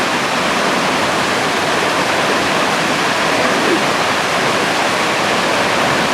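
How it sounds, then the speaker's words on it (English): Hardraw Falls in England, the country's longest unbroken waterfall at over 100 feet, pours with strong force, making a loud, constant roaring rush of water with no pauses. "It's the longest unbroken waterfall in England, over 100 foot. It's flowing with quite a lot of force today."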